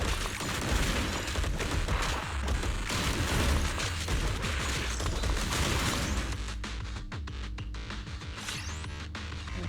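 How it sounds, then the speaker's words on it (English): Dense explosions and rapid gunfire from the video game Zenless Zone Zero, with loud, continuous bursts and booms that thin out toward the end, with no talking. "We're doing mostly explosions today."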